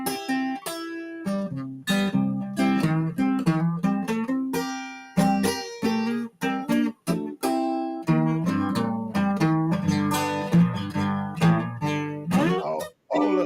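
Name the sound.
guitar playing a blues-like country song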